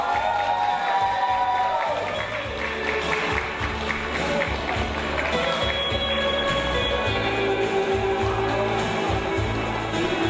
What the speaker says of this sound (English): Another big round of applause for Victoria.